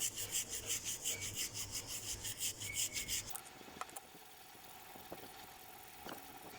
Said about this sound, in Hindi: ब्रश के ऊपर एमबीसी डाली और अब यहाँ से आईसी को अच्छे तरीके से आप रगड़ के साफ़ कर दें।